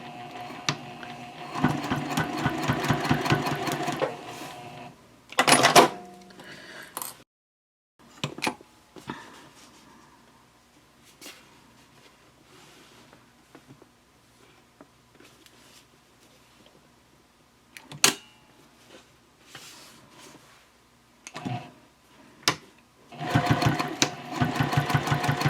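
Sewing machine back-stitching an adjustable strap onto a backpack, running in several short bursts of rapid stitching separated by pauses and handling noises, close up.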